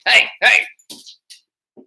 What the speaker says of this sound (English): got to get after my dogs